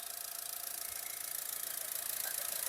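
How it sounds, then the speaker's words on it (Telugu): A 2019 Honda Amaze S car engine running at idle, a faint, steady, even hum with light hiss and no other sounds. "ఇంజిన్ రన్నింగ్ లో ఉందండి"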